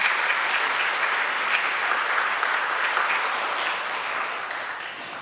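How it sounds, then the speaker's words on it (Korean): A church congregation at a Sunday service claps in welcome, a dense, even wash of applause that holds steady for several seconds and tapers slightly at the end. "여러분들 환영의 박수 부탁드립니다"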